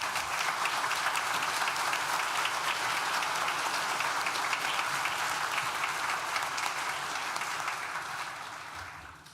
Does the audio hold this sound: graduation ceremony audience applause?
yes